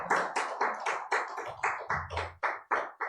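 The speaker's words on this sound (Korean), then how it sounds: "뜨거운 박수로, 환영의 박수 부탁드립니다" Welcoming claps during a small church's Sunday service: about a dozen distinct, close hand claps in an even, steady rhythm, each sharp and separate rather than a blended roar.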